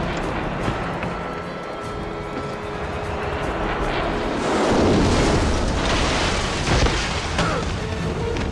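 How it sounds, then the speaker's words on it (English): Helicopter from the James Bond 007 Blood Stone video game, a loud steady rotor and engine roar that swells around the middle, mixed with booming game action. "Helicopter inbound."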